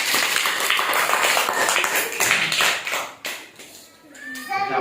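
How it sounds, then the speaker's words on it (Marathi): A small group claps for a child named Shaurya after he correctly identifies foods by taste in a home blindfold game. The dense, lively clapping fills the first few seconds, then thins into scattered claps and a few voices. "शौर्यासाठी जोरदार टाळ्या"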